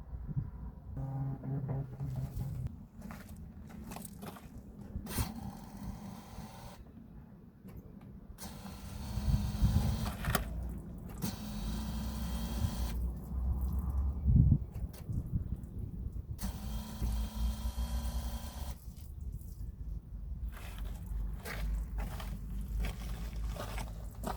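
Fuel pump in a Holden Commodore that has sat unused for years, priming after the ignition is switched on: a low, steady electric whir and hum, fairly quiet, with light rustling and no speech.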